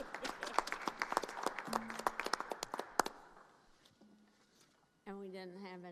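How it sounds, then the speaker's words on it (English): A board of education meeting audience gives a round of applause, crisp individual claps fairly close and loud for about three seconds, then fading into room noise before a voice begins speaking. "One more round of applause, Clyde Ward."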